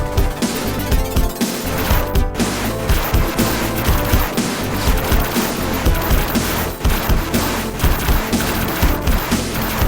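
A giant robot fires lasers in the Moonwalker video game: dense, rapid bursts of electronic blasts and explosions pour out loudly and without pause, layered over game music.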